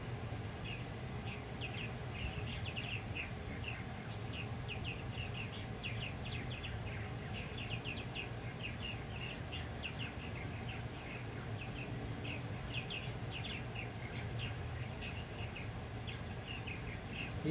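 A baby bird at a farm in summertime calls for its parent to feed it: a steady run of high, thin chirps repeats throughout, moderately distant, over a constant background hiss.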